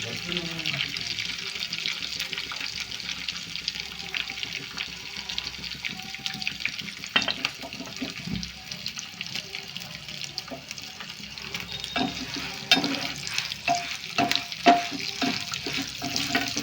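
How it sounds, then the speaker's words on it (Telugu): Hot oil sizzles and crackles steadily in a pan with onion, cumin and mustard seeds frying for tempering, with occasional sharp pops and faint clatter over the constant hiss. "అన్నీ వేసాను. నేనైతే ఫ్రై చేస్తున్నాను."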